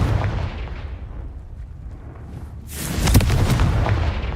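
Confringo fire spell explosion in Hogwarts Legacy, a loud fiery blast that swells after a rumbling lead-in and then crackles and booms, with no talk.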